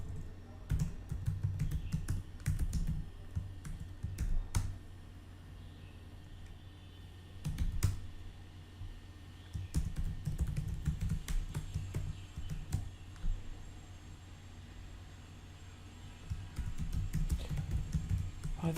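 A password is typed on a computer keyboard while logging into a remote machine over SSH: bursts of rapid keystrokes and clicks with short pauses between them, close and clear, with no voices.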